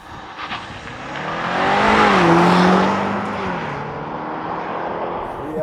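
A 2025 BMW Alpina XB7 SUV with a big V8 launches hard from a standstill, its engine note rising and swelling loud and close before easing into a sustained roar.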